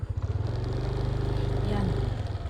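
A highway motorcycle nicknamed Big Boy chugs along a rough, difficult dirt road, its engine pulsing in a steady rapid rhythm close by, with a rider talking over it.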